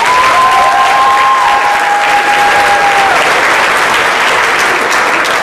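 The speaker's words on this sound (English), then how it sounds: "Please give these students a round of applause." Sustained applause from a school audience for students who placed in regional and state technical competitions, dense and steady throughout, with a faint tonal whistle drifting above the clapping early on.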